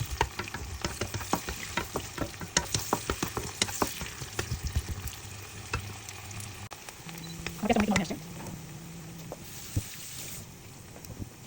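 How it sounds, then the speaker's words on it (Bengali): Onions frying in oil for a boal fish curry, with a steady sizzle broken by repeated clattering scrapes and stirring knocks in the pan, plus a brief louder burst midway. "পেঁয়াজটা দিয়ে পেঁয়াজটা নরম না হওয়া পর্যন্ত আমি একটু ভেজে নেব"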